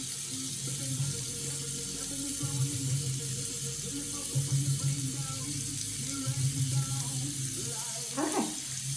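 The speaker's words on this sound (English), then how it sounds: "So I just get some warm water." Warm water runs steadily from a tap into a sink during a face-washing skin care routine, a soft continuous wash with a brief splash near the end.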